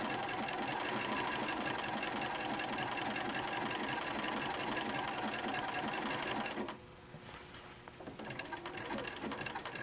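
A sewing machine runs fast and continuously while overstitching a dinosaur applique on a quilt top, a loud, close, dense mechanical whir that slows and softens near the end before picking up again.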